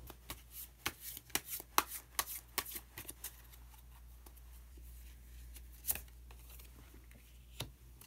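Tarot cards are shuffled and drawn, giving a series of soft, close riffling and flicking taps in irregular bursts, then a quieter pause with a few isolated snaps.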